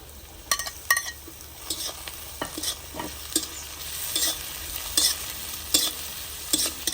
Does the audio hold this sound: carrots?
yes